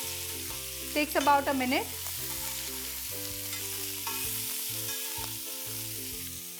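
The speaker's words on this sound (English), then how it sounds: "now we're going to saute this till the raw smell of the ginger garlic is gone" Ginger-garlic paste sautéing on a hot tawa, a loud continuous sizzle under background music, with someone speaking briefly near the start.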